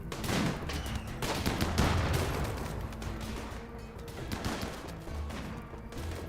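Gunfire in the RimWorld video game, a rapid cluster of sharp crackling shots and bursts, dense at first and thinning out toward the end, with no talk over it.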